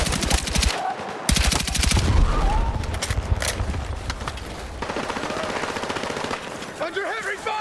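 Dense gunfire in the Battlefield 6 video game during a night mission, with rapid machine-gun bursts and heavy shots close and loud, and shouted voices mixed in near the end.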